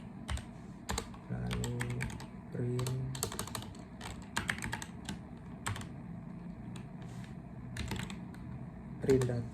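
Rapid clicking of computer keyboard keys while code is typed, coming in short bursts with pauses, close and clear, under someone speaking.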